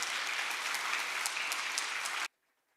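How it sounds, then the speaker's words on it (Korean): A church congregation at a Korean Presbyterian Sunday service in Detroit gives a newcomer a dense, loud burst of welcoming applause that runs steadily for about two seconds, then cuts off abruptly into near silence. "환영의 박수 드리겠습니다"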